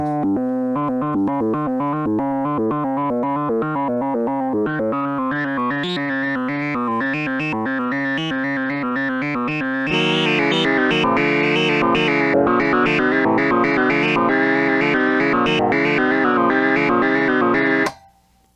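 Memorymoog synthesizer tones hopping in rapid stepped, random-sounding filter changes from noise-fed sample and hold modulation, growing brighter and fuller halfway through before cutting off abruptly.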